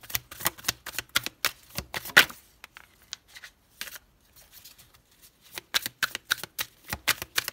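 Tarot cards shuffled and cut by hand, a quiet run of crisp riffling flutters and papery slaps in bursts, pausing briefly midway before resuming in quick repeated shuffles.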